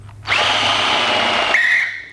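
A power drill bores into material during a wave tower installation, a loud close whine of about a second and a half that dips in pitch as it bites, then spins free briefly before stopping.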